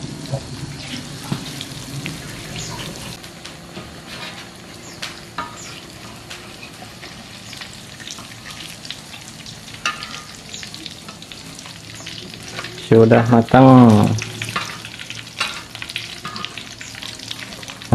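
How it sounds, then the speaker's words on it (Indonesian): Tempeh fries in a pan with a steady, close sizzle and occasional stirring scrapes, joined briefly near the end by a burst of running tap water, with a short spoken remark. "Nah, habis goreng tempe, kita mau goreng jengkol."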